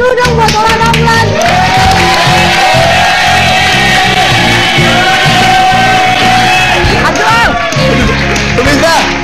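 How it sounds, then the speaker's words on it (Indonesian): A studio audience on a TV variety show claps, cheers and whoops loudly and continuously, with music underneath throughout. "Tepuk tangan dulu dong buat Ola Ramlan"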